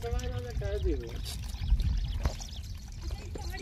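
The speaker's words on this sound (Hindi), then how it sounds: "देखिए यहाँ से पानी गिरता है" Water falling and trickling down a hillside near a lake in the hills, a soft splashing flow heard close by while people talk over it.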